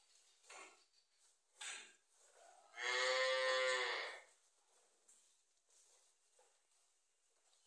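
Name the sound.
cow mooing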